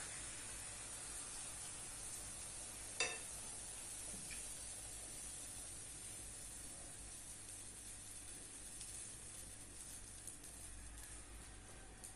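Pancake batter made with water and a single egg sizzles in a little oil in a frying pan, a faint, even hiss that holds steady throughout with one brief tap partway through.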